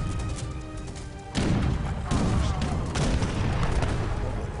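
Cannon fire in Age of Empires III, a sudden loud boom followed by further heavy blasts and rumbling battle noise that stays dense to the end.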